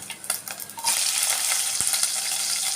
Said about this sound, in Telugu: ఈ ఉల్లిగడ్డలు వేగడానికి కొంచెం సాల్ట్ వేస్తున్నానండి